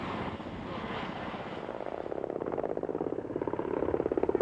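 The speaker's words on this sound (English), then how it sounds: "The Ka-50 Hokum was the winner and flies here in its latest variation" A Kamov Ka-50 Hokum attack helicopter flies with a steady engine roar, and rhythmic rotor thumping grows stronger and more distinct as it nears.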